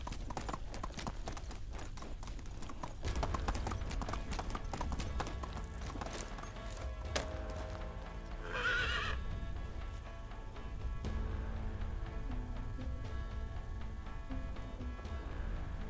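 A horse gallops in the medieval video game Medieval Dynasty, its rapid hoofbeats clip-clopping continuously and loudly, with one brief whinny midway and no talking.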